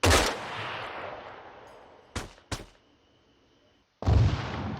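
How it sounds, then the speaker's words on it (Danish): Gunfire in the Arma 3 military video game: a loud opening shot, two quick cracks close together a couple of seconds later, then another heavy shot after a brief silence, each ringing out with a decaying echo. "De skyder på os"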